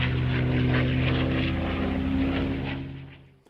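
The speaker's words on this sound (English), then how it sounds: "drowning out the beautiful sound of warbirds" WWII warbird aircraft with Packard-built Rolls-Royce Merlin piston engines, a loud droning propeller roar passing close by, then fading away.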